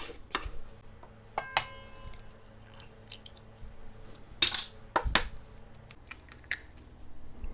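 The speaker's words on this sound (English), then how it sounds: "We'll scrape the butter off the sides of the bowls." A spatula scraping creamed butter off the sides of a mixing bowl, quiet intermittent clinks and scrapes against the bowl at irregular intervals, close by with no talking.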